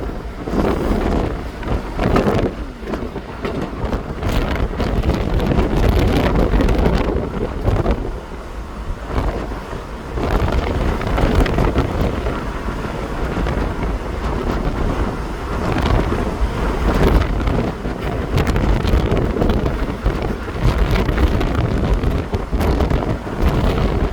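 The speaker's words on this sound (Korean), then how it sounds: "아직도 바람 세기는 굉장합니다" Strong wind buffets the microphone aboard a new wind-powered ship at sea, a loud continuous roar with gusting surges and water rushing underneath, no talking.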